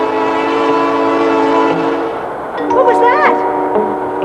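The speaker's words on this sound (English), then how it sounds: "That was the G train." A subway G train sounds a loud, sustained horn chord, which breaks off into rumbling and screeching rail noise as the train passes close by.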